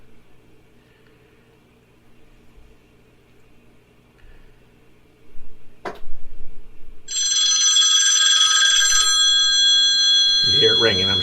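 A phone rings steadily from about seven seconds on, set off remotely by a smartwatch's find-my-phone function. A repeating electronic ringtone plays loud and near, following a tap and some quiet talk.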